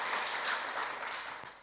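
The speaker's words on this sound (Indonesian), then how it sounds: "Tepuk tangan buat Tuhan Yesus Saudara." Church congregation applauding, a short burst of soft clapping heard from some distance, steady and then tapering off.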